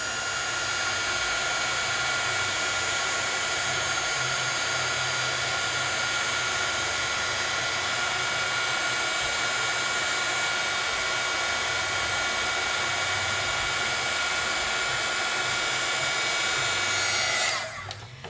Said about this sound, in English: If you wanna start on low until you get comfortable using a heat tool, but this is a cylinder tool that lets you get close enough without burning.